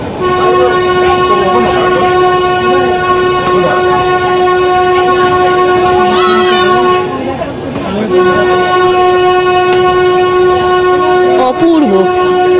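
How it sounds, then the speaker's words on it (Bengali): The Nilgiri toy train pulls into Ooty station with a loud, steady droning horn-like tone that holds for most of the stretch, dipping briefly partway through, over continuous rumbling rail noise. "চলে এসেছি উটি স্টেশনে। আমাদের ট্রেন এখন উটি স্টেশন"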